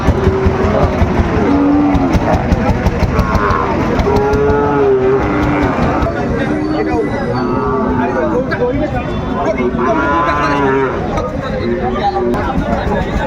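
Sahiwal cattle lowing repeatedly at a busy rural livestock market, several long moos rising over constant crowd chatter and nearby voices of people bargaining.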